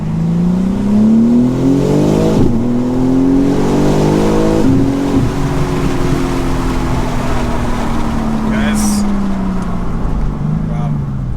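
A BMW M3 CS accelerates hard, its engine note climbing steadily through the revs, dropping sharply at a gear change, then pulling again, loud and close from inside the cabin with a voice briefly talking over it.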